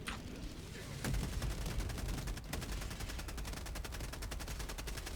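Cluster bomb strike in the video game Helldivers 2: a dense, rapid chain of explosive blasts rattling continuously for several seconds, loud and sustained after a sharp opening bang.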